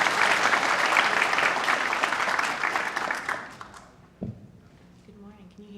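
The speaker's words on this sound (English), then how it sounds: "nice big round of applause." Conference audience breaks into a hearty round of applause that holds strong for about three seconds, then thins and fades out, followed by faint room noise and a brief voice.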